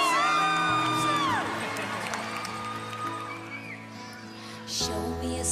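Children in an audience at a Christmas show cheer and whoop as Santa arrives, a loud crowd swell with sung tones at the start and another burst of shouting near the end.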